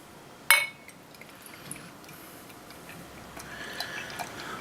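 Imperial Bourbon Barrel Aged Wild Honey Stout is poured into a glass, opening with a sharp clink, then a soft, faint liquid trickle that grows slightly toward the end, with no talking.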